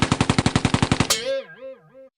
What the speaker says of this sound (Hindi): धमाका सिंह स्टेन गन का फायर ऑन कर देता है